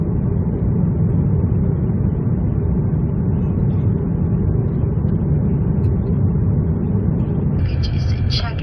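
Steady broadband roar inside the cabin of a Lufthansa A350 airliner descending toward Incheon, a constant engine and airflow drone that continues unbroken, with a brief higher tone near the end.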